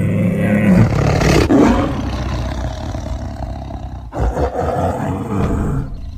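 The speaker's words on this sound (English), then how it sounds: "Jane roars, attempting to scare them out of hiding." A dinosaur lets out a loud, deep, sustained roar meant to scare herbivores out of hiding on open grassland. It breaks briefly around the two-thirds mark, then a second rumbling roar follows and carries to the end.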